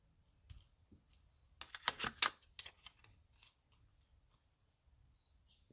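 A paper flower shape is die cut for a handmade card, making a quiet cluster of crisp clicks and rustling cuts in the middle, with faint handling noises before and after.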